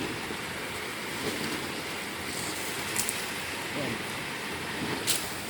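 Strongly flowing water, a rushing current headed toward a rice field, gives a steady wash of noise with faint wind and occasional small splashes. People talk faintly.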